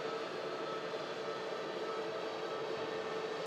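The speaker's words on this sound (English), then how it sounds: "The Pegasus A321 Neo just heading back out to Istanbul." Pegasus Airbus A321neo jet at Manchester Airport heading out, a faint, steady distant engine roar with a low hum, unbroken throughout.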